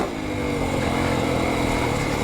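A 2025 Yamaha YZ450FX dirt bike engine runs continuously while being ridden in third gear, a loud, close, steady mid-pitched drone with a buzzy four-stroke rumble and no pause throughout.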